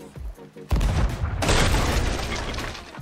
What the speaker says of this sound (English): This is the sound of a cannonball hitting the hull